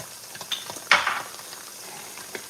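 Spoon stirring brown sugar and apple cider vinegar in a pan, with a short scraping clink and a brief sizzle over a faint background hiss.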